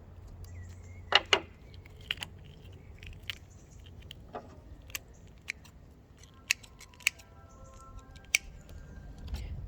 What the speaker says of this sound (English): Now with the knife I will be making some incisions